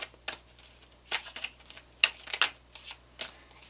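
A Gilded Tarot deck being shuffled, soft scattered riffs and card slaps at low volume, brief irregular bursts with quiet gaps and no talking.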